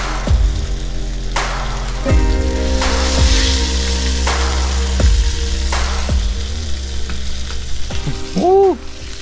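Fresh-caught rainbow trout fries in a pan with a steady, crackling sizzle, punctuated by sharp clicks and scrapes of stirring or handling close by.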